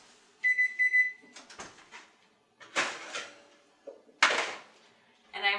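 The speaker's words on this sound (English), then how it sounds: "my first batch is beeping," Kitchen oven timer signalling a finished batch of spicy gingerbread cookies: a short steady beep, followed by clattering bangs and knocks that might be oven or cupboard handling.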